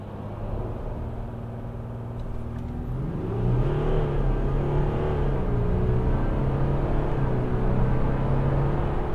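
A VW Amarok pickup with a 3.0 V6 TDI diesel and a tuned gearbox launches hard under launch control, its engine idling low, then surging into a loud, rising drone with audible gear shifts as it pulls.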